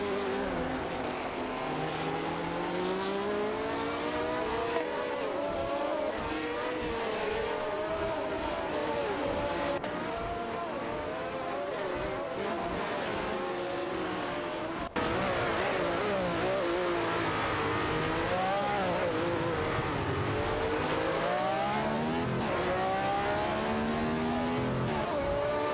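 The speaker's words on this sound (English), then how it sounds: "The dynamic of the race is becoming increasingly competitive between these two AI-driven cars." AI-driven race cars lapping a track, with engines whining and revving through rising and falling gear sweeps. Several cars overlap at moderate distance in a continuous roar that brightens after an abrupt cut midway.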